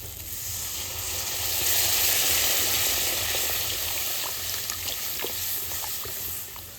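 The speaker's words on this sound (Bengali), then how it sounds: "এবার আমি জল দিয়ে দেবো" Water poured into a frying spice paste for a Bengali fish curry, raising a loud, steady hiss and bubbling sizzle that swells and then gradually eases, heard up close with no talking.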